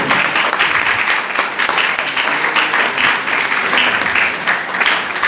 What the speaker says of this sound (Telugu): అందరూ కూడా చప్పట్లతోటి వారికి అభినందన తెలపవలసిందిగా కోరుతున్నాను.